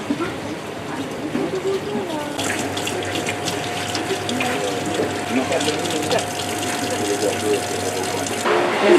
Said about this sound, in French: On se lave les mains.